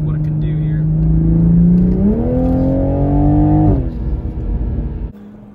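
A 2021 Toyota Supra GR with a 3.0L engine revs in sport mode from inside the cabin, a loud droning note climbing in pitch, holding, then dropping as the throttle is released.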